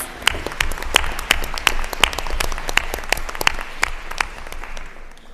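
Applause from a school board meeting audience for a retiring staff member's wife and two sons in the front row: a modest crowd clapping steadily, with individual sharp claps standing out, close and continuous without voices.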